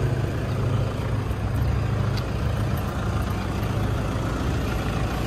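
Toyota Hiace Super Grandia van with a 3.0 engine and automatic transmission runs steadily close by, a loud continuous low rumble with no talking over it.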